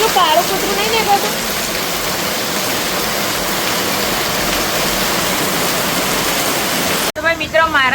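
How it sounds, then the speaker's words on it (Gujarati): Sudden heavy downpour pouring steadily, a loud continuous roaring hiss; faint voices sound at the start, and a brief break near the end gives way to a person talking. "ધમ ધોકાટભાઈ વરસાદ ચાલુ થઈ ગયો છે. આમાં ફૂલ વરસાદ."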